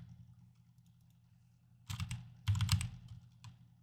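Clacking keystrokes on a computer keyboard, close and fairly quiet, arriving in two short bursts of rapid typing over a low background hum.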